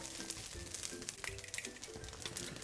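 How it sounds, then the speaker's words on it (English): Beaten egg frying into ginger fried rice in a hot pan, a soft steady sizzle with light crackles, close but fairly quiet. "Now we add in our egg."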